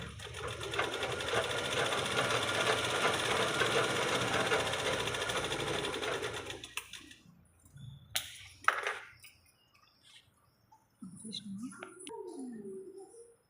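A sewing machine runs steadily with a dense, fast stitching whir for several seconds, then stops, leaving handling clicks and knocks and a brief voice at the end.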